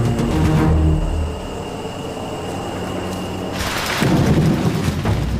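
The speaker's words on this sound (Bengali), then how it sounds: "যখন তখন বৃষ্টি নামছে আর জঙ্গলের মাটি পুরো কাদা কাদা হয়ে গেছে। আর এই বাজ পড়ায় অবস্থা আরও খারাপ।" Thunder rumbles deep and loud through a rainy Panama jungle in the monsoon season, rolling continuously over a steady hiss of rain, with a fresh surge of rain and rumble near the end.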